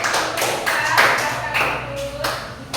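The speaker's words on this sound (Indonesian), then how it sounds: "jadi kita berikan aplaus sekali lagi ya" A classroom audience gives a round of applause after a group presentation, steady clapping that holds throughout at moderate loudness with faint voices underneath.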